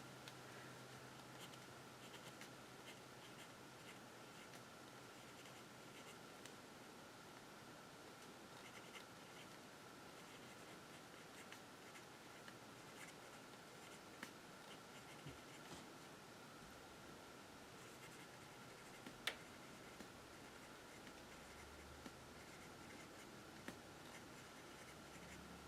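Pen nib moving across the paper of a daily planner, a faint, steady scratching that runs unbroken for the whole stretch, with no voices.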